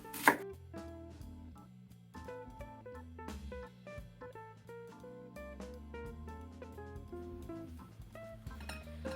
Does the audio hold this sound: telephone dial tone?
no